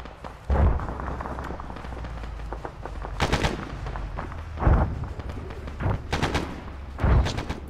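Infantry gunfire in the military game Arma 3 at a final-stand battle: scattered distant rifle shots and bursts with a few louder, nearer cracks, echoing under a steady low rumble.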